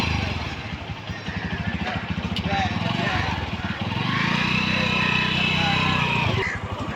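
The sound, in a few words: used motorcycle engine running at a bike market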